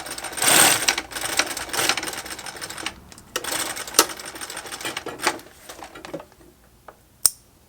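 A sewing machine runs a seam along a folded rubber inner tube, in uneven bursts of stitching with pauses and a sharp click near the end, close and fairly loud with no talk.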